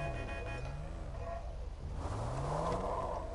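A car engine in GTA 5 revs twice in rising sweeps, each climb steady and moderately loud, with a low rumble beneath and no talking.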